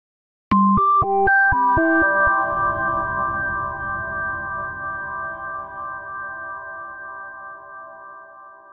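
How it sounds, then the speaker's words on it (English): A quick run of notes from a Serum synthesizer preset rings into a long, lush reverb tail that slowly fades over several seconds. "That's a pretty long reverb."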